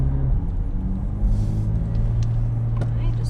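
A Corvette powering along a race track at a driving school, its engine a steady deep rumble with a low droning tone heard from inside the car, continuous and fairly loud, with a few faint clicks.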